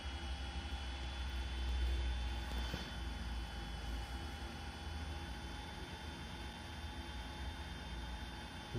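A Singapore Airlines airliner taxiing in the game Real Flight Simulator, heard as a faint, continuous jet engine whine and hiss with steady tones and no break.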